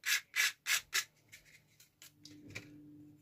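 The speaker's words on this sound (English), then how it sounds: "So I'll give it a quick tidy up with sandpaper" Sandpaper rubbed by hand over a resin-inlaid scroll saw piece, four loud rasping strokes in quick rhythm, then lighter, fainter rubbing with a low hum underneath.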